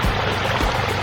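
A front-yard pond water feature trickles and burbles in a steady, continuous wash of falling water, close and fairly loud, with no voices over it.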